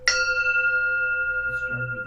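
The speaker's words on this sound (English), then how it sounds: "Hearing the sound of the bell, all thinking is cut off." A single Zen meditation bell is struck and rings out with a clear, sustained metallic tone that slowly fades, followed by a voice starting softly.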